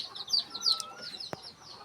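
Short, faint clucks from chickens nearby, a few quick calls with a sharp click partway through.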